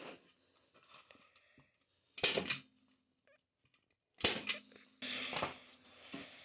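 Two sharp, loud stapler clacks a couple of seconds apart, each a crunchy snap with a short rattle, amid quiet rustling and brief handling noises.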